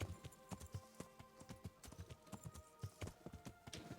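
A warhorse's hooves clop in a video game: regular, fairly close footfalls in a steady gait, with a low continuous background underneath and no talking.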